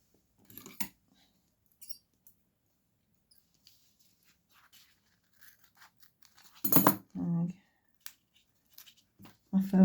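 Scissors snipping through craft foam pads at a card-making table, a few quiet cuts among soft handling noises, with someone talking over parts of it.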